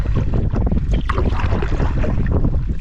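Strong wind buffets the microphone while paddling on Lower Mace lake, a continuous loud rumbling roar with faint water sounds and no talking.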